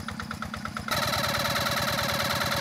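A Yanmar TF 70 tractor engine chugs with a rapid, even diesel putter that grows louder and denser about a second in and then keeps running steadily up close, with no voices.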